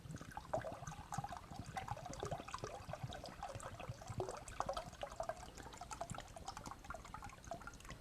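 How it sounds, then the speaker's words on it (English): Stabilizing resin poured into a container holding a wood bowl, a steady liquid pour and trickle with small splashy dribbles running continuously, fairly quiet and close, with no talking. "So I'm going to pour the resin in now."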